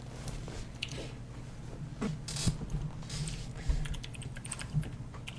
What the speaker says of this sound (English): Sorry, I'm just typing in chat.